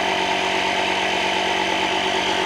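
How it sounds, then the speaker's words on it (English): A small, cheap portable air compressor runs at close range while inflating a tyre, giving a loud, steady, unbroken motor drone with no voices. "It's a piddly little compressor, but it gets you out of trouble."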